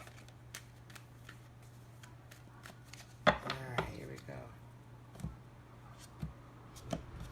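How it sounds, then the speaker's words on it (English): Tarot cards being shuffled, heard as a soft run of scattered card taps and clicks with a denser riffling burst in the middle, over a low steady hum in a quiet room. "I like to shuffle until they calm down so that we can get a focused set of cards"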